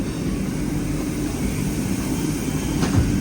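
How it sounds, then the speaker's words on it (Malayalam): A steady, broad rumble of a Vande Bharat train at a station carries on throughout, even and continuous with no speech. "വന്ദേ ഭാരത് എന്ന് പറഞ്ഞിട്ടുള്ള ട്രെയിൻ കിടക്കണ്"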